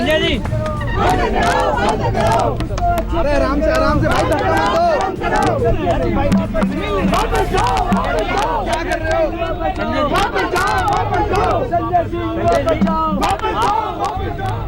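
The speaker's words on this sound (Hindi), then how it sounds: "उनका स्वागत हूटिंग, नारेबाजी और धक्का मुक्की से हुआ" Supporters of Yogendra Yadav crowd around an AAP leader, hooting and chanting slogans in a dense, jostling throng. The noise is loud and continuous, with shouts and yells overlapping and a nearby voice speaking through it.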